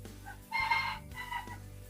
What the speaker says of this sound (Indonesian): mungkin ada suara ayam dan lain-lainnya lah, karena di sini banyak ayam